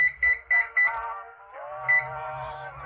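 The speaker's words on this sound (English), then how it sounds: "I'm gonna set an alarm or timer here." A kitchen timer alarm beeps in quick repeated pairs, then shifts into a steadier sustained electronic tone, heard fairly close in a kitchen where sugar syrup for caramel popcorn is boiling.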